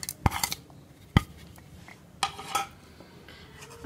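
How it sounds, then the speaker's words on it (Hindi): Chicken and spices being added to a metal mixing bowl, with a few sharp clinks and clatters of a spoon against the bowl spaced irregularly over soft handling noise, close and alone. "सबसे पहले हम मिक्सिंग बाउल में चिकन को डालेंगे और इसमें मैं ये सारे मसाले डाल दूंगी।"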